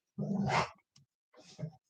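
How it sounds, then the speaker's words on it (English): Dogs bark in a home, one loud burst of barking followed by a brief yelp and a second shorter bark after a pause, close by with no talk over it. "My dogs are going to start."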